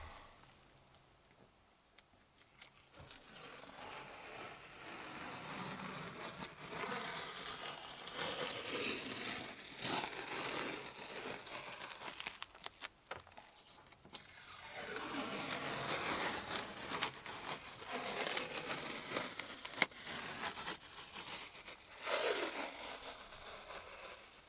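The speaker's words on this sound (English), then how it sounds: "remove the tape." Adhesive tape is peeled off freshly resealed boat flybridge seating, long crackling, tearing strips pulled in several slow runs, close and quiet.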